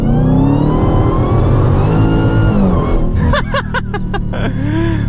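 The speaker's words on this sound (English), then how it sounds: "The whine, the supercharger whine is insane." A Dodge Challenger Demon 170 accelerates hard with a loud, rising supercharger whine over a deep engine roar, its pitch climbing steadily before a burst of gear changes near the end.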